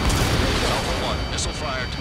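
Missile launches and explosive booms from the Ace Combat 7 flight combat game, a dense, loud rumble of in-game artillery-like blasts filling the whole moment with no pauses.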